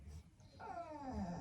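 Dog whimpering indoors, a faint, short rising whine that stretches into a thin, wavering cry, heard alone and close.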